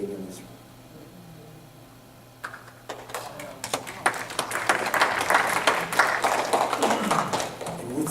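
Audience applause in a talk on non-attachment and manifestation, starting as scattered claps and swelling into steady, dense clapping that fills the room.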